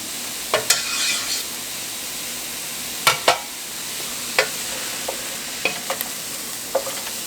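Something sautés in butter in a pan with a faint steady sizzle, broken by several sharp scraping clicks of a utensil against the pan, close and quiet.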